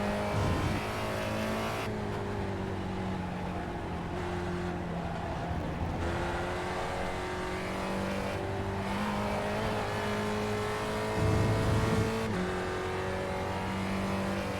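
SRF and Street Stock race cars lap Lime Rock in iRacing, a steady, loud engine drone with shifting gear pitches, brief revs and surges as cars run close together.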